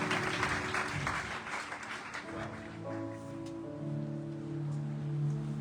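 Church congregation applauding during worship, a broad wash of clapping that fades into sustained musical tones with voices underneath.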